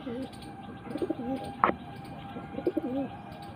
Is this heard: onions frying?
no